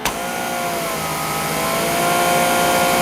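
Greenworks Pro 2500 psi electric pressure washer motor running steadily and close, with a constant tonal whine that holds level and swells slightly as it adjusts under load after the trigger is pulled.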